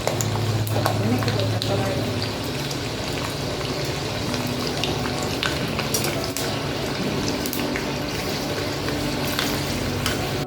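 Garlic cloves sizzle and crackle steadily in hot oil for a mango pickle, a close, continuous frying hiss with a voice faintly present at times.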